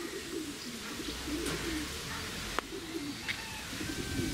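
Racing pigeons coo softly at a loft, low repeated calls under steady ambient noise with a few faint chirps and a small knock.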